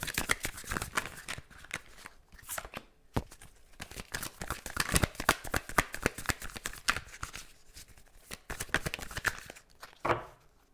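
Tarot cards are shuffled for a love reading, with dense rapid riffling and flicking of the deck that carries on almost without a break at close range. A short pause falls near the middle.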